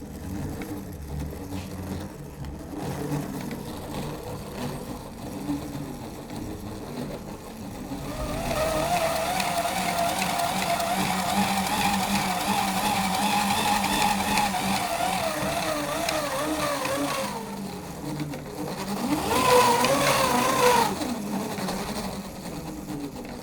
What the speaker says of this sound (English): drone motors are actually three-phase synchronous AC motors that can be driven directly from a three-phase supply